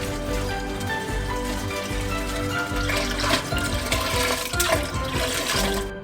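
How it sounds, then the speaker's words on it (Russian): Five litres of milk pour into a large pot in a steady, continuous gush, a dense liquid rush with faint clinks over it. "И вливаем 5 литров молока."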